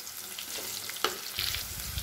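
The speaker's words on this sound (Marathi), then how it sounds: "आता इथं जिरे पण चांगले परतवले गेलेले आहेत" Cumin seeds, sliced onion and green chilli sizzle in hot oil in a pan for soybean pulao, a steady close crackle with a sharp pop partway through and soft scraping of stirring.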